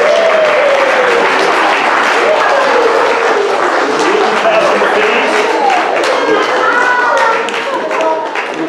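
A church congregation claps continuously during a Sunday service, producing a dense, steady wash of close handclaps. Voices talk over the clapping throughout, and it eases slightly near the end.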